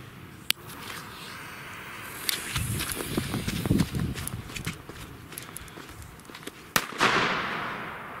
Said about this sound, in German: Gleich dazu im Vergleich, die Magnum, das ist ja ein K3 Böller.